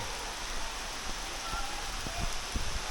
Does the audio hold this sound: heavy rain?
yes